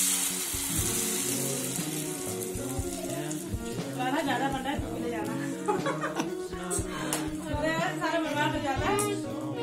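Batter mixture frying and sizzling in a hot kadhai, a steady crackle running throughout while people talk and laugh over it nearby.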